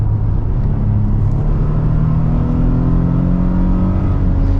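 A 2022 Nissan Frontier PRO-4X pickup with a 9-speed automatic accelerates, its engine droning loud and steady as the pitch climbs and drops with gear changes, heard from inside the cab without talk.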